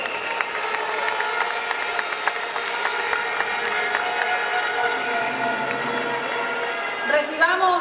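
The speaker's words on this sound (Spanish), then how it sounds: "Fuerte el aplauso para Valeria Mena." A crowd at a pageant-style event in Santo Domingo applauds for a television news presenter, with sustained clapping and some cheering under a voice amplified over loudspeakers.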